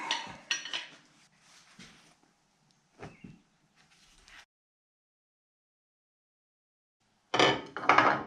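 A 24-inch pipe wrench works at a hydraulic oil container: a few scattered metallic clanks and scrapes, then a long silence before a final louder burst of clatter, close by.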